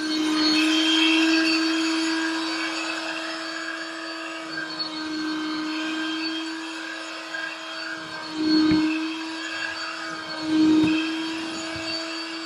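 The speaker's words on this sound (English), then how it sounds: "you can see the liquid getting sucked up here as you go along." A Bissell Pet Stain Eraser portable carpet cleaner runs steadily with a strong motor whine, pulling liquid out of carpet; its suction tone surges and gurgles briefly twice near the end.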